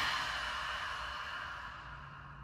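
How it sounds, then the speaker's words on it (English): A person does a yoga lion's breath, letting out one long, breathy exhale through a wide-open mouth that starts strong and slowly fades, heard alone and close. "Exhaling with the mouth open."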